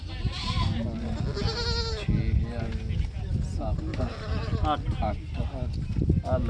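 A goat bleats amid a busy crowd at a village goat market during bidding, its cries mixed into loud overlapping talk close by.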